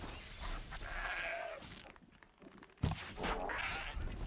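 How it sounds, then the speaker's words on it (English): A goat bleats in the video game Horizon Zero Dawn, with two drawn-out bleats separated by a short pause, heard close by and clearly. "There's a goat over there. Let's go see if we can get that goat."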